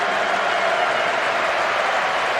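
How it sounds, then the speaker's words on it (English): A football stadium crowd in PES 2008 roars steadily as a section urges the players to shoot, a dense continuous wash of massed voices and applause with no distinct calls standing out. "One section of the crowd is urging them to shoot"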